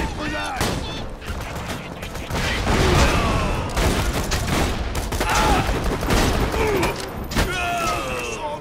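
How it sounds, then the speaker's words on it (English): Rapid bursts of gunfire from a Borderlands 2 firefight crackle in repeated volleys, with some mechanical clatter and in-game voices mixed in, fairly loud and close. "he doesn't care that I'm shooting him with them"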